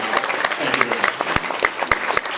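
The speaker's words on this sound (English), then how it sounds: "Quick round of applause for Andrew, who's been showing up." A live audience at a storytelling show in Chicago gives a brief round of applause, a burst of lively, close clapping with distinct sharp hand claps over a thin crowd murmur.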